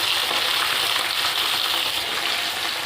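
Oil heating in a kadai (wok) gives off a steady, even hiss with no breaks, close by and fairly loud.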